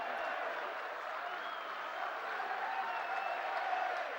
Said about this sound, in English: Davis now getting the applause